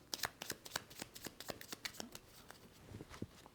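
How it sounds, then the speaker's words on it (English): Pursuit cards from the solo board game Mind Space being shuffled, a quick run of crisp, close papery riffles and slaps repeating in an even rhythm, alone with no talk. "give those a good shuffle"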